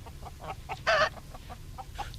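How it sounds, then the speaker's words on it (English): Hens cluck in short, soft bursts, with one louder squawk in the middle, over a low steady background hum. "At Intake Farm, George Lancaster showed Pat his special prize hens."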